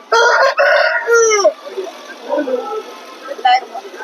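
A rooster crows loudly nearby at a poultry market, a long drawn-out call, followed by softer clucking and faint background chatter.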